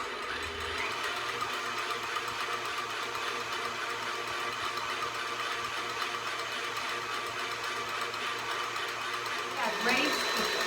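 An electric mixer whips egg whites with a tablespoon of sugar in a steady, continuous whir that carries on for the whole stretch and shifts near the end.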